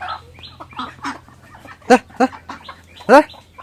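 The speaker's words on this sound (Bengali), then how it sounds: "মুরগি দেখে কেমন ধরছে।" A hen clucks in short, separate bursts, a few sharper calls standing out nearby, with faint background murmur.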